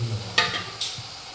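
Already-fried raw plantain pieces tipped into a pan of tomato gravy for a South Indian plantain thokku, with two sharp scraping stirs over a low, close sizzle.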